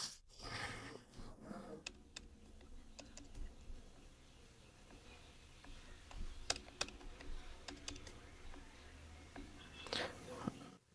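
Computer keyboard being typed on while entering basic details at checkout: faint, scattered key clicks in short bursts over a quiet room background, with no speech.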